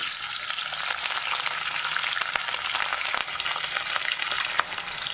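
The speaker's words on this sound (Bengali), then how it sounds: "এইভাবে সম্পূর্ণ মাছগুলো কিন্তু ভেজে নেবেন" Pieces of katla fish frying in hot oil, a loud dense crackling sizzle filling the whole stretch with occasional sharper pops, close and without talk.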